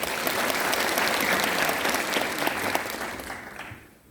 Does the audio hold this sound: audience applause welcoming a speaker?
yes